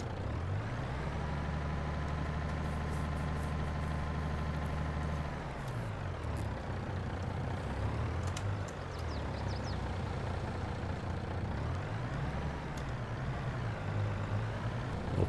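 A truck driving in Farming Simulator, hauling sunflowers, with a steady loud engine drone throughout and the pitch rising and falling as it shifts and slows.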